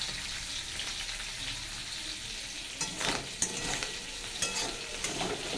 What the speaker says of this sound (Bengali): পটলগুলো ভাজা হোক ততক্ষণ